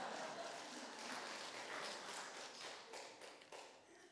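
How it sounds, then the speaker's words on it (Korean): Quiet, sustained clapping from a church congregation during a Sunday worship service, with distinct individual claps standing out across the dense wash, and a faint voice mixed in. "박수를 치라면 끝까지."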